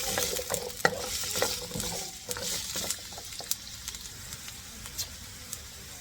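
Vegetables for pork afritada fry in a pan with a steady sizzle, broken by frequent scraping and clacking stirs of a utensil, close by.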